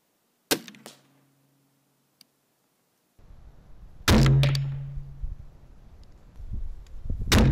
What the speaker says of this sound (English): Now we're going to mount this on my crossbow and shoot a target at 30 yards.